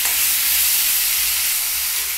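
Ghee added to hot mustard oil in a cooking pan hisses and sizzles steadily at close range, a continuous broadband frying crackle with no talking.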